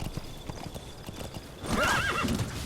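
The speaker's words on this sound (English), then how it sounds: "I guess a horse is just passing by." A horse in the video game Metal Gear Solid V trots past with quick clip-clop hoofbeats, then gives a loud whinny near the end over a low game background.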